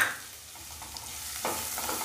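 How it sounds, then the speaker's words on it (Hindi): Onions frying in a pan for stuffed capsicum, giving a soft, steady sizzle close up with a faint stir and a slight swell near the end; no one speaks. "तो प्याज को भी हम भून लेते हैं"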